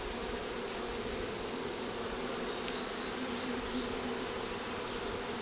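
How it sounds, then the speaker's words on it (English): Honey bees, including drones, buzzing at an apiary hive, a dense continuous hum from many bees up close, with individual wingbeats passing now and then. "There's another drone bee"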